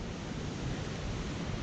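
A big waterfall on Yosemite's Mist Trail toward Vernal Fall, heard as a steady, dense roar of falling water that holds at an even level for the whole stretch, with no talking.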